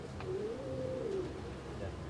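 Pigeons at a pigeon loft give a short, soft cooing call, a low warbling coo under background noise and faint voices.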